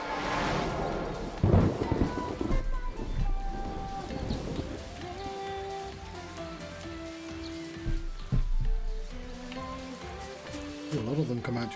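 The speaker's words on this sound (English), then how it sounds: "Here comes the rain again." Rain and thunder in Final Fantasy XIII's Sunleth Waterscape, a steady wash of rainfall with low rumbles running under a layered game music score, with someone talking over parts of it.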